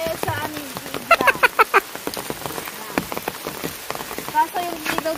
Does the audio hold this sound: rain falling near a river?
yes